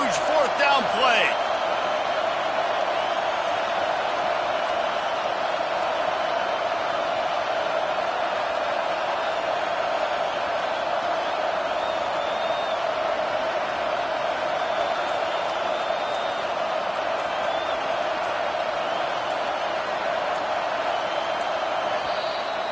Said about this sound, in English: This crowd bringing serious noise on this